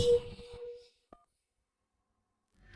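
A phone call being dialed, with a short tone after a fading burst of indoor sound, then near silence before faint noise returns at the end.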